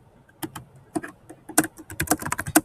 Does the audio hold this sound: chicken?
no